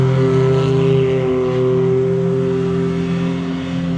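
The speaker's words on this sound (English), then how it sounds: "Got these loud ass racers going by, going into the desert like it's a race track." Loud racing cars drive past into the desert near Lake Havasu City, Arizona, their engines a close, steady, heavy droning roar that holds throughout with no voices.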